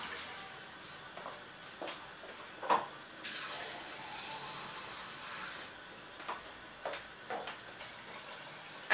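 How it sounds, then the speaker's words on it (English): Water pours from a tap into a pan while a port risotto with duck is cooked, a faint running gush with scattered clinks and knocks from the kitchen, and no talk. "So pint and a half of water, so that it's quite well covered."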